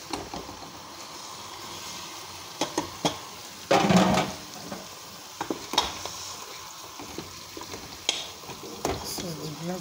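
Blended pepper tipped into hot oil in a pot of oil rice cooked with bonga fish sizzles and crackles steadily up close, with occasional stirring scrapes and clatters.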